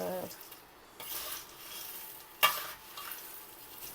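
Spoon scrapes and stirs through fried poha as masala is mixed in for makyacha chivda, with soft rustling, a light sizzle and one sharp clink against the pot.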